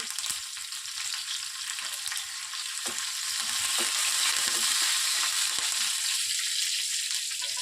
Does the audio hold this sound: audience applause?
no